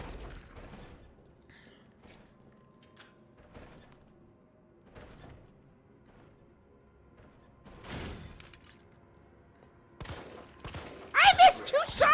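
Gunfire in a Resident Evil game: a handful of sharp, spaced shots and thuds ring out at intervals over a quiet background, with a louder noisy burst toward the end.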